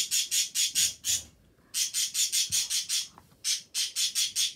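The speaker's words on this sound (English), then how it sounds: "excuse me, birds. You are very loud and I'm trying to talk." Loud, harsh bird squawks repeat in quick bursts of four or five, with a short pause between groups. The calls are close and dominate the scene.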